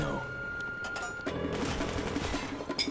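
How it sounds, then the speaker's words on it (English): Enemy gunfire in a Call of Duty Black Ops campaign mission, rapid bursts of shots and impacts layered over game music and battle noise, with voices talking over it throughout. "I could see him shooting."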